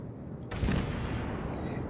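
Main battery guns of the New York, a tier 5 battleship in World of Warships, fire in a sudden heavy boom at sea, followed by a sustained rumbling roar that stays loud and broad.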